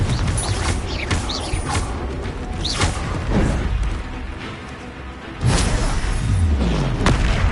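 Confringo blasting curse from Hogwarts Legacy going off as a deep booming explosion, followed by creaks and whooshes of game effects, with a second loud blast near the end.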